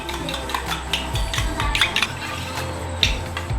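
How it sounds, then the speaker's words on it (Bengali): A spoon whisks two beaten eggs in a bowl with quick, rhythmic scraping clinks and soft wet swishes. The strokes are close and steady, and there is no talk. "এবারে ভালোভাবে চামচ দিয়ে নাড়িয়ে নেব।"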